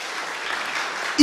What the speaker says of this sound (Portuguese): aplaudam eles aí.